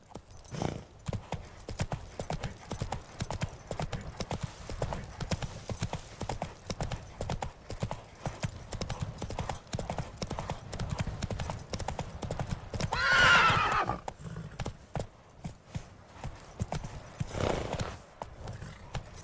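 In The Witcher 3: Wild Hunt, the horse Roach gallops with loud, continuous clip-clopping hoofbeats throughout, and a clear neigh rises over them near the end.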